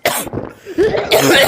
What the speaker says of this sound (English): my cough is way worse.